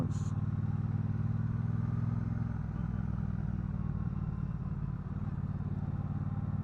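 Steady low engine drone from a Triumph Bobber Black 1200 motorcycle cruising in second gear on back roads, loud and continuous with wind rumble and a slight pitch shift partway through.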